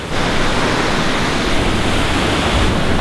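A waterfall in the Columbia River Gorge roars as a steady, dense broadband rush, loud and unbroken throughout with no voices.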